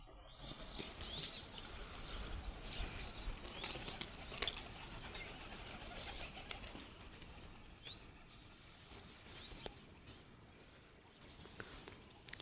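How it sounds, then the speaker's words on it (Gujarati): Several pigeons land at a home loft in Gujarat, their wings flapping in brief bursts over a quiet outdoor background, with soft shuffling in between. "હાલો કબૂતર ફાઇનલી મિત્રો એથી ઉતરી ગયા છે."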